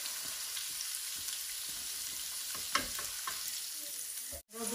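Chicken and onions fry in a pan with a soft, even sizzle and a few light stirring scrapes. A louder clatter of utensils comes near the end before a brief dropout, and there is no talking.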